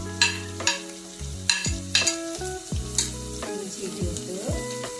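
Ginger sautés in a pan for Kerala-style snakehead fish curry, a loud close sizzle broken by repeated sharp scrapes and knocks of a spoon stirring against the pan.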